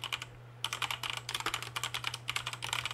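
Rapid typing on a computer keyboard, a dense run of crisp key clicks in quick irregular bursts after a short pause, close and fairly quiet over a steady low electrical hum.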